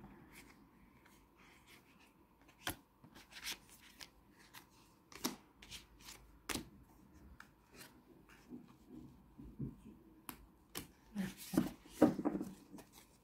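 Thick tarot cards shuffled and handled at close range, with soft rubbing and riffling broken by sharp snaps and taps that grow busier toward the end, alone without talk.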